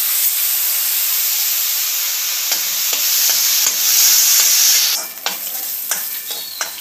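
Washed rice is roasted in a pan for rice kheer, giving a loud, close, continuous hiss of frying. Scraping stir strokes run through it, and the end turns into sharper clinks and knocks.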